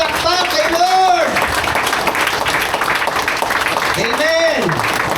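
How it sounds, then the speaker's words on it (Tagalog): A church congregation claps for the Lord in a short burst of applause. Speech frames it on both sides, before and after the clapping. "Ibigay natin yung the best na palakpak kay Lord."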